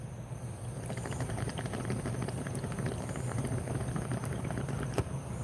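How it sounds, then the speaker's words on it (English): Water gurgling and bubbling steadily inside a bong, a continuous low churning burble with dense crackly texture, close and fairly loud throughout. "I like the bong sound."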